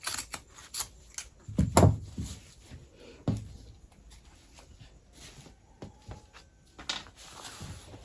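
Scissors cut through aso oke fabric laid out for a V-shaped kaftan gown, a run of crisp snipping and rustling with irregular clicks and louder chops, close and quiet, no talking.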